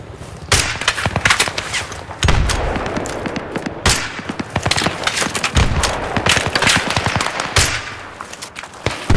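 Rapid bursts of video game gunfire, machine-gun rattles and scattered single shots crackling continuously with sharp loud cracks throughout, no talking.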